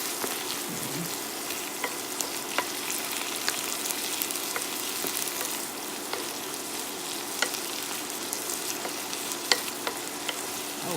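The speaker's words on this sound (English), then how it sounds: "there is a little chicken in the skillet here. And I'll add a little butter to it." Chicken frying in butter in a skillet, a steady close sizzle with scattered small pops and crackles throughout, no talking.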